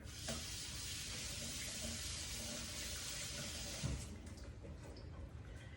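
Artichokes are rinsed under a running kitchen tap: a steady, close rush of water flows for several seconds, with a brief splash near the end and no voices.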